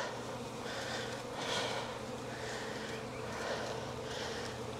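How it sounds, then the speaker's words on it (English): Steady buzzing from many honeybees around an observation hive, a dense continuous drone that swells and fades slightly, close by with no voices. "Now, the bees will fly back to the hive."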